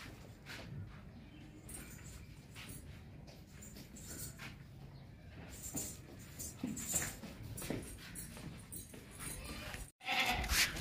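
A single goat in milk, offered for sale as a Qurbani animal, bleats intermittently over several seconds close by. Quiet outdoor background noise and faint voices sit behind it, with a brief dropout near the end.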